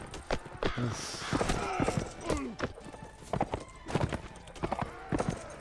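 Rapid hoofbeats clatter from several horse archers' horses at a gallop in the game Mount & Blade: Warband (Imperial Rome mod), fairly close, with a brief whinny and some scattered talk mixed in.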